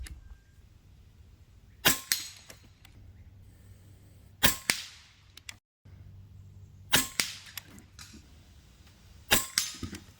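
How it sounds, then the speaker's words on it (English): Sharp metallic pings of air rifle pellets from a Benjamin Marauder (Gen 3) striking steel targets, arriving in pairs and small clusters every couple of seconds against a low, steady background hum. "the pellets hit these steel targets so hard, you can definitely hear it"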